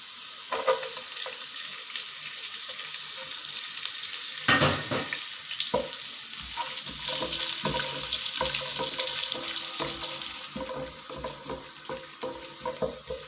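Garlic drops into hot oil already frying ginger for lemon pickle, with a sudden splash of sizzle followed by a steady, close crackle and occasional stirring scrapes.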